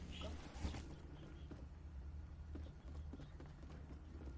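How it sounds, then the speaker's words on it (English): Character footsteps in the video game Fortnite sound as a run of regular soft thuds, moderately close, with a brief louder knock near the start and faint background murmur. "Oh, that was just your footsteps."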